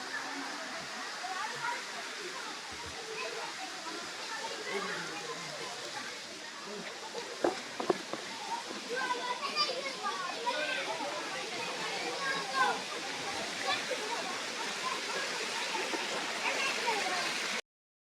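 Kailasakona waterfall pouring down over rocks, a constant close rushing wash of falling water, with people chatting over it.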